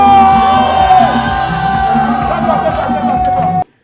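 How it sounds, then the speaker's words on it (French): A crowd cheers and applauds for Grasso, loud and continuous, with whoops and shouted voices over a sustained tonal backdrop before it cuts off abruptly. "Et on applaudit pour Grasso."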